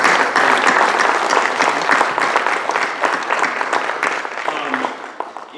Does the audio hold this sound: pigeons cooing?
no